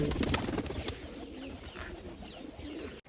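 Soft pigeon cooing murmurs in the background amid a faint outdoor hiss on an overcast day, with a few light knocks as pigeons are fed roti.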